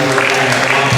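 Crowd of about 150 supporters clapping at a women's basketball league final, a brief dense burst of applause close by with some voices mixed in.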